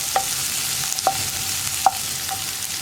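Onions sautéing with curry leaves in a pan for a cheera parippu curry, a steady soft sizzle with a few spoon scrapes and taps against the pan at irregular intervals.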